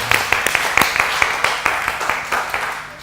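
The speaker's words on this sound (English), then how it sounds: "Okay, big round of applause for Rosie." Small audience giving a round of applause for Rosie, brisk, clear claps from a modest group that hold steady for a few seconds before starting to thin out.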